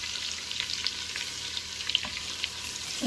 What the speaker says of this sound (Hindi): ऑयल कड़कड़ा के आप बटर डाल लें, साथ ही आप इसमें प्याज डाल दें।